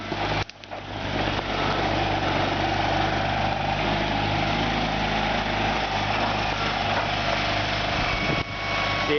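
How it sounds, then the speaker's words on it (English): Lift truck engine running steadily at a constant drone throughout a lift demonstration with mast extension, continuous and fairly near with no talk. "Now he's going to show the lift operation."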